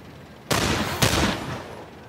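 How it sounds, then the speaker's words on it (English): Two loud gunshots from a turn-based firefight in the video game The Lamplighters League, about half a second apart, each with a short ringing tail, no voices. "So we'll shoot this one twice"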